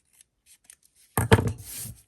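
Scissors trimming a thin sliver off paper for a handmade gatefold card: a single close, crisp snip followed by a brief rustling slide of the blades after near silence.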